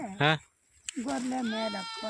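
Sheep from a flock of around fifty on a small farm bleat in a wavering, harmonic-rich call, a short loud bleat followed after a pause by a longer drawn-out one, close by with voices nearby.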